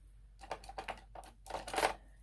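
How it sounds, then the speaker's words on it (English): Cheap scissors snip through paper for a scrapbook layout, a quick series of crisp, close cuts in uneven bursts with no talking. "Just a little bit I'll cut off. Just use some cheap scissors to do that."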